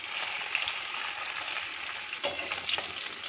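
Small puti fish fry in a pan of oil with a steady, close, hissing sizzle, broken by one sharp clatter partway through; no one speaks.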